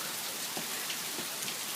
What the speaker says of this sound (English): Jordan and Jabari are running in the rain right now